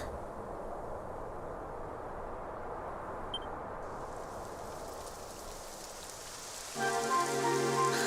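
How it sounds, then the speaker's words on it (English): Rain falls steadily in a video game, a constant broad hiss that holds evenly throughout, with a faint beep near the middle and a brighter patch of rain late on. "Typical. It would have to go and start raining, wouldn't it?"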